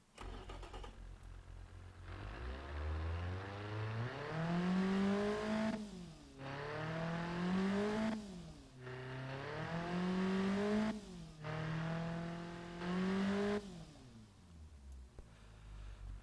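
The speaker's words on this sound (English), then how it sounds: "it's not a terrible sounding engine" Simulated hot-hatch car engine from the game Automation starts up and revs repeatedly, climbing in pitch through four or five rising sweeps with brief drops between, loud and close, then settles to idle.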